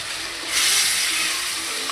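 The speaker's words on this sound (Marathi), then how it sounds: "फोडणी जाम जोरात बसली." Spice tempering for a bitter gourd (karela) dish hits hot oil with a sudden loud burst of sizzling and crackling that continues steadily, close and without voices.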